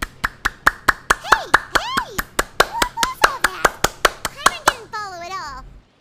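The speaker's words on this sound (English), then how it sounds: "People clap." Rhythmic clapping from a crowd of characters in the video game Genshin Impact, about twenty sharp, evenly spaced claps close up, with voices speaking over them before they stop.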